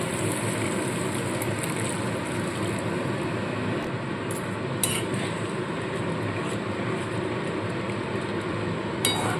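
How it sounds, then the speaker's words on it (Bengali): Water poured into a pan of fried spice masala hisses and bubbles in a continuous rush, with a few light clinks of utensils and no talking. "এবার এখানে আমি পরিমাণ মতো জল দিয়ে দেবো"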